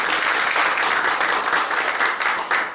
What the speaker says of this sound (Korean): 박수 좀 주시겠어요?